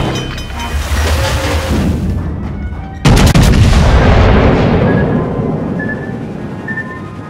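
Heavy naval guns fire from warships in a World of Warships battle, with a Montana battleship among them. A sharp, loud boom lands mid-clip and rolls out into a long, dense rumble of gunfire.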